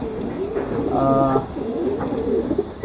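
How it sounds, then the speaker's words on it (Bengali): Soft pigeon coos, a couple of low throaty calls close by, over a steady murmur of background noise. "সতেরোটা কবুতর আছে"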